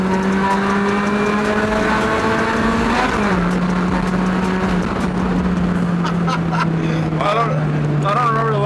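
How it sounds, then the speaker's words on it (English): A car accelerates hard with no-lift shifts, its engine note climbing steadily, dropping sharply at a gear change, then climbing again as the tires break loose and squeal in second gear, loud and close with a voice talking over it. "the tire's breaking loose at second gear is crazy"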